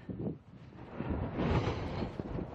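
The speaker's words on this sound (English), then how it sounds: "So we're going right into the wind" A gale rushes against the microphone at Humphrey Head, a rugged coastal headland, as a low continuous roar that swells and buffets for a couple of seconds with no speech.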